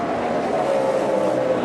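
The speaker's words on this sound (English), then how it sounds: "Matt Kenseth is going to hang on and win the night race at Bristol." NASCAR stock cars racing at night at Bristol, a loud continuous engine roar from the pack circling the track, sustained and droning without a break.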